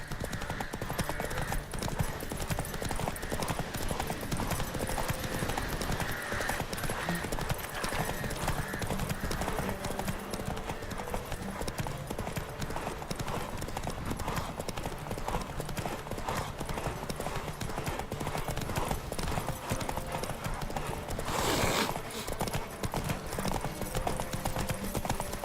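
Rapid galloping hoofbeats of a horse in The Witcher 3, a dense continuous clip-clop rhythm running loud and steady throughout, with occasional snorts or whinnies and a voice speaking briefly over it.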